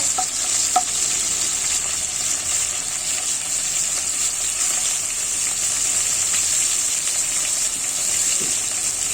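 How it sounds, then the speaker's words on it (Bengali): Ginger, garlic and onion paste fries in a pan with a dense, continuous sizzle while being stirred, loud and close throughout with no pauses. "অল্প করে আদা রসুন পেঁয়াজ বাটা দিয়ে দিচ্ছি নাড়াচাড়া করে নিব"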